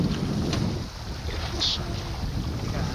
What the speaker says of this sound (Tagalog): Ayan o, lakas ng alon.